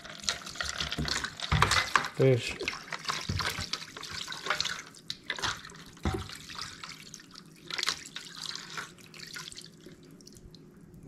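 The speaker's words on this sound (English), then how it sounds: "our wet brine has cooled off, chilled it with this ice, and you just pour it in" Chilled wet brine with ice is poured over trout, giving splashing, dripping and trickling liquid sounds up close, with someone talking in between.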